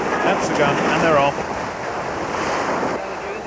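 Ocean surf rolls and washes steadily at a beach swim race, with broad, continuous wave noise mixed with wind buffeting and a faint voice briefly underneath.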